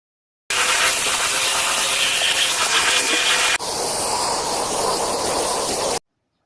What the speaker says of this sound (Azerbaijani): İlk öncə işə toz soğuran zibilləri götürməklə başlayıram.